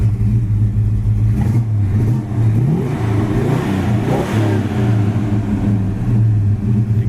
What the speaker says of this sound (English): Gives you a little idea what that exhaust sounds like.